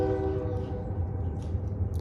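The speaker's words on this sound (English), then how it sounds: "That there's the train" A train passes close by, its horn sounding a steady harmonic chord over a continuous low rumble of rolling wagons, loud and unbroken throughout.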